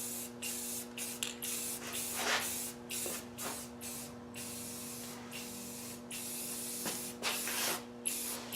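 Camo paint hisses from a spray can onto a mini bike in short, repeated bursts with brief pauses between them, close and fairly quiet over a steady background hum.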